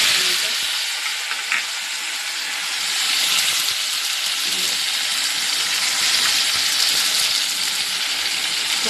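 Mustard seeds, cumin, onion and curry leaves frying in hot oil in a pan, a steady close sizzle and hiss with occasional stirring scrapes, no voices.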